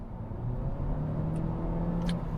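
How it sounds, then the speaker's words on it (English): A 2023 Honda Civic hatchback in sport mode builds speed under throttle, a steady low engine drone and road rumble holding level throughout with a faint rising tone, heard from inside the cabin with no talking. "So for example, sport mode right now, and I press the throttle now."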